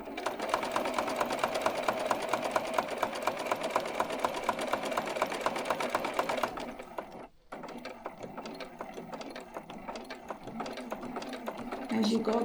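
A sewing machine stitches steadily down through a thick quilted jacket sleeve, its rapid rhythmic clatter close and loud for several seconds, briefly pausing, then resuming more unevenly.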